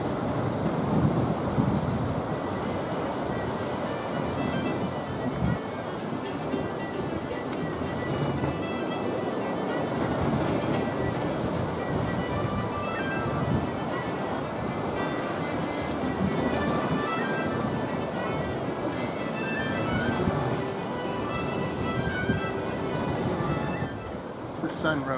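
Wind and waves wash steadily around a sailing ship under way at about ten knots on a southwest wind at night, a constant broad rushing roar of sea and air with occasional louder surges, continuous and fairly near.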